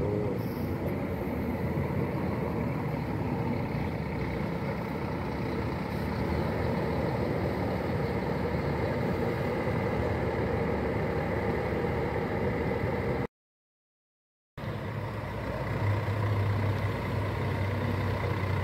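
Heavy diesel buses idle and move around a busy intercity bus station in Governador Valadares, Brazil, with a steady loud engine rumble that carries on throughout, broken by one short gap, and a faint whine near the end.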